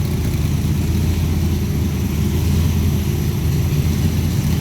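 A 1965 Shelby Cobra MK II Factory Five Racing replica engine runs steadily at idle, a loud, continuous low rumble with no pauses and no talking.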